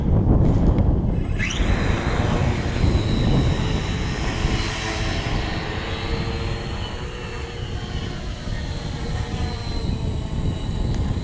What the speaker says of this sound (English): Okay, ready for takeoff.